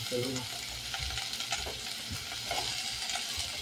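Chicken adobo sautés in a pan with steady sizzling and frying hiss, broken by the scrape of stirring, close and continuous with no talking.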